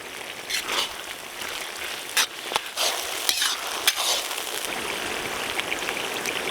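Chopped onion, ground ginger-garlic paste and green chilli frying in oil for a village-style mutton karahi, a steady, close hissing sizzle with a few sharp scrapes and clinks of a spoon stirring the pan.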